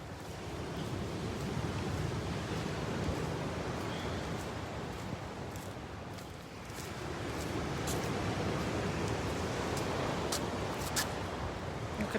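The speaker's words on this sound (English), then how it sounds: "Wow, big waves this morning." Big ocean waves at high tide roll in at Redondo Beach Pier as a steady, loud broadband wash of surf, with sharper crashes and splashes rising toward the end, heard alone without talk.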